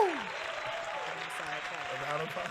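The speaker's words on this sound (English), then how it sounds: "we're going to have to give him a round of applause before he gets on" An audience gives a round of applause, dense clapping filling the space at moderate volume while voices talk over it.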